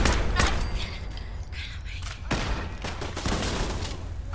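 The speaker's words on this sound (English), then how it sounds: "they're shooting at my ass" Enemy gunfire in Fallout 4 rattles out in dense, overlapping bursts of shots and thuds, loud and close, continuing for several seconds with a few sharper cracks standing out.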